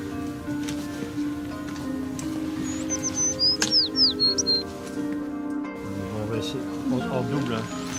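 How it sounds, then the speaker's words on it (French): Passerine songbirds sing along the brackish Baltic coast of Sweden, a short burst of bright chirps and trills in the middle, over a steady low hum with a voice talking. "Les chants des passereaux remplacent les cris des mouettes et des goélands."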